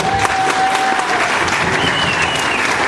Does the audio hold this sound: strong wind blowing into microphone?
no